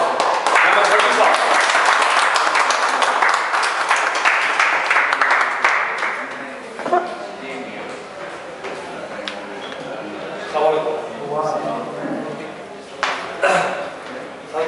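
Audience applause fills the first six seconds as a speaker is welcomed onto a stage at a Pakistani event, a dense broadband clatter that then thins out into scattered claps beneath someone talking.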